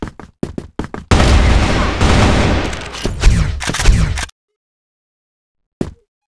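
Gunfire in a competitive first-person shooter: a few sharp single shots, then a long sustained burst of rapid fire, followed by silence and one last isolated shot.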